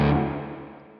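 A single dark, fuzzy chord from a Walrus Audio Melee distortion and reverb pedal, tone switch all the way left, rings out close and loud for about a second and slowly fades.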